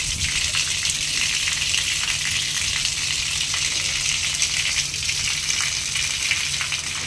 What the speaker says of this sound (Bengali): এই কলের মুখটা পুরোপুরি খুলে দিই, তাহলে জল ভর্তি হতে অনেক টাইম লাগবে, ফোর্সটা বেড়ে যাবে আর তাড়াতাড়ি জলটা ভর্তি হয়ে যাবে।